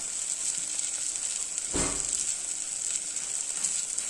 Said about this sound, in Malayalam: നന്നായിട്ട് നമുക്ക് പച്ചമുളകൊക്കെ മാറുന്നവരെ ഒന്ന് ഇളക്കി കൊടുക്കും